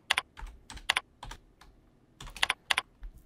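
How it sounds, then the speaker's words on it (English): Close, crisp typing on a computer keyboard while filling in a surgeon preference card, short irregular bursts of keystrokes with brief pauses, nothing else heard. "You just need to just type in what you want on the preference card."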